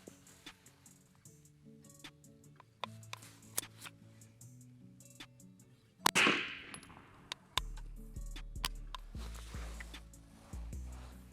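A Stribog pistol-caliber carbine fires at targets outdoors, sharp shots ringing out in an uneven series with metallic clanks and one louder blast midway, moderately close with no talk.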